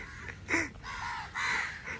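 Several harsh crow caws in quick bursts, fairly close and loud, overlapping one another with brief gaps between calls.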